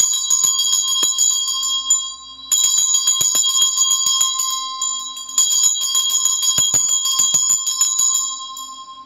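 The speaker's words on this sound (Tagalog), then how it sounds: "medyo maingay itong aking Tibetan bell. And I use this to cleanse the space." A Tibetan bell rings out in two long, sustained strikes with a bright, shimmering metallic tone that lingers and decays slowly, alongside faint rattling touches and no voices.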